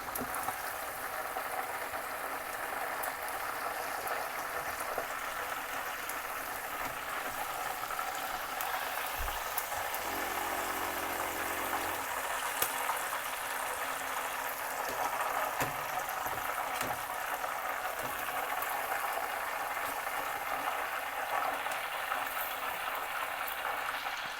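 Chicken pieces frying in hot oil give off a steady, dense bubbling sizzle that holds at an even level for the whole stretch, close by, with no one speaking.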